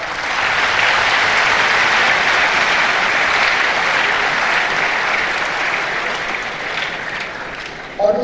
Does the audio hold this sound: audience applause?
yes